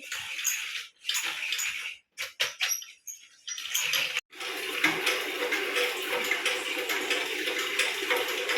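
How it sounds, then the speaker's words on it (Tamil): Water being pumped, heard as uneven bursts of splashing and gushing that stop and start before settling into a steady rushing flow close by. "எவ்வளோ நேரமாக தண்ணி அடிச்சுட்டு இருப்பா"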